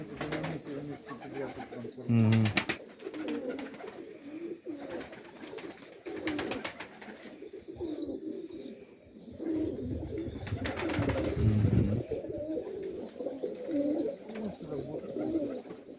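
Pigeons coo over and over in soft, throaty rolls, close by, while people talk quietly in the background.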